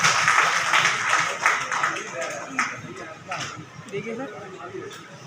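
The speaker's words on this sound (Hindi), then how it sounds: "जोरदार तालियां बजती रहनी" An audience at a bar association ceremony in Agra claps in a scattered, moderate round of applause, fairly near, with a voice speaking over the clapping.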